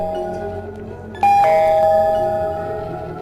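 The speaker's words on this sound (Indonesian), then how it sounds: "Bel pintu rumah berdering teramat keras, memecahkan kesunyian malam itu." A house doorbell rings loudly at night, a sharp chime that strikes and then rings on as it slowly fades, standing out over a faint low background hum.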